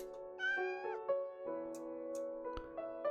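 A hungry outdoor cat meows several times in quick succession, clear tonal cries with rising and falling pitch, close and fairly quiet with no talk.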